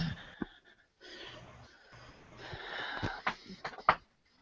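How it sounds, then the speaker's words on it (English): Heavy, wheezy breathing with sniffs and snorts, fairly quiet and close, building toward a few sharper gasps near the end with no talking. "that's some pretty heavy breathing there"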